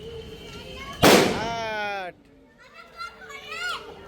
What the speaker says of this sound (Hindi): ये देखो बम पटाखे गाइस छूट रहे हैं